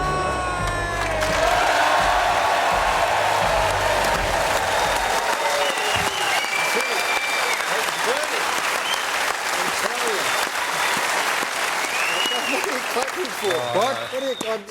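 Studio audience at a television football show breaks into loud, sustained applause with cheers and whoops as a host is welcomed to the stage, a dense continuous roar of clapping that swells and carries on, with voices beneath it.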